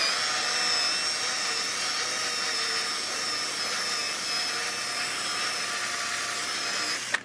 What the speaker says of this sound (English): use this carbide bit and I'm going to ream the hole out a little bit